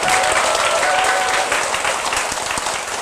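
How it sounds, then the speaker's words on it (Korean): Lecture audience breaking into loud, warm applause to open a talk, dense continuous clapping from a large crowd close by with no speech on top. "뜨거운 박수로 시작 한번 해보겠습니다."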